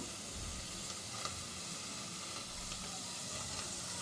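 Pieces of rui fish, lightly salted, fry in a pan for rui posto, giving a steady low hiss and sizzle that runs evenly throughout with no talking.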